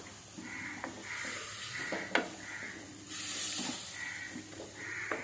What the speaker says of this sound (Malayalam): ശേഷം കുറച്ച് ചൂടുവെള്ളം ഒഴിച്ചു കൊടുക്കാം.